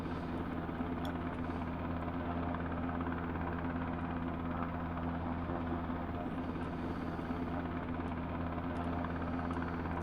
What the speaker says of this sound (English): there's another helicopter here where I am